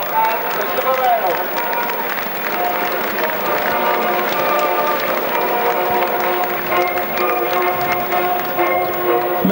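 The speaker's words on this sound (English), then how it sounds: "Let's give a round of applause to the two mascots, Darren Coe and Mr. Moreno." Stadium crowd at a Brighton & Hove Albion versus Portsmouth football match applauding the mascots, a steady wash of clapping and crowd noise filling the whole stretch without a break.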